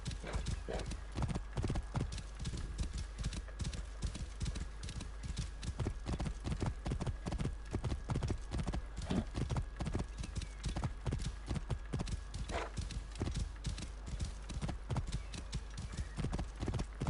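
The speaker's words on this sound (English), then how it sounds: "Silly horse. Always getting yourself into trouble." A horse in Assassin's Creed Origins trots with steady, close clip-clopping hooves that run throughout, with a neigh partway through and a voice talking over the top.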